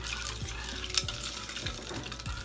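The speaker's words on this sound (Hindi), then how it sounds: "और अब डालेंगे आइस।" Ice goes into a mango milkshake, giving a steady run of soft clattering and stirring knocks against the container, with a few sharper clinks along the way and no voices.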